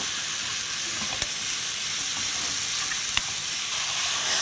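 Chwinamul greens sizzle in a hot pan as they are stir-fried with garlic and onion, a constant bright hiss with a couple of sharp crackles, no voices.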